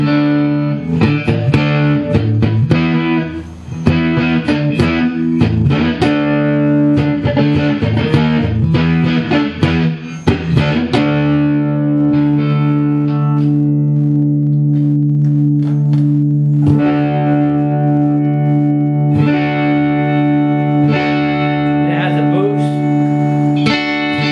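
Clean electric guitar from a Fender Eric Clapton signature Stratocaster with Lace Sensor pickups, played as ringing sustained chords and picked notes with a full, even tone and no talking.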